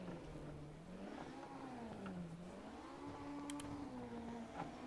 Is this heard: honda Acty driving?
yes